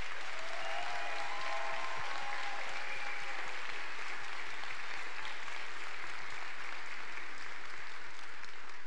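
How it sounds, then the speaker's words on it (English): An audience claps steadily at a nursing graduation ceremony, a broad sustained wash of applause filling the hall from start to finish. "I'd like for you to all give them a wonderful round of applause."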